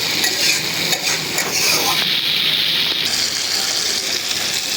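Softened onion fries with dried chili powder and spices in hot oil, giving a steady loud sizzle with stirring scrapes throughout, no talking.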